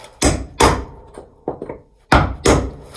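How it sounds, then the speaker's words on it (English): Steel hammer blows driving a wedge-shaped iron into a seam of a carvel-planked spotted gum boat hull during caulking: five sharp, close knocks in two pairs with a lighter double tap between, no talking. "Just hammering it in is going to compress the fibres a little"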